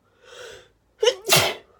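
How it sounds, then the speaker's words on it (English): A single close, loud sneeze from a person who is ill, preceded by a softer sharp inhale, then silence. "sorry about all the sneezing, I'm really ill"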